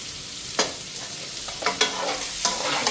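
Cabbage frying in a pan with ground cumin, stirred with a few distinct scraping strokes over a steady soft sizzle, close and without talk.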